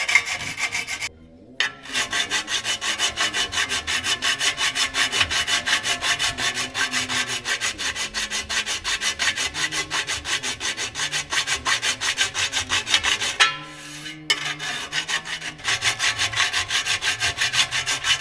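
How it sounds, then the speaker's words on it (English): A hand file levels metal on a 1932 Ford five-window coupe. Fast, steady rasping strokes continue close and loud for most of the clip, with two brief pauses. "There's a couple of bits on there that just need leveling up, so I'm just going to file those."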